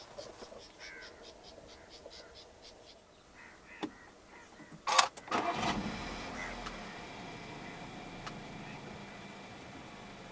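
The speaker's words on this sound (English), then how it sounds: "press the start button to the right of the gear lever." A faint click and whir of a starter as the push button is pressed, then the 1.4-litre turbo petrol engine of a 2018 Volkswagen Tiguan catches and settles into a quiet steady idle, with a crow cawing faintly beforehand.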